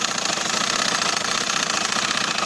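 A sewing machine stitches trouser fabric with a steady, even mechanical whir that runs continuously at moderate level, with no voices.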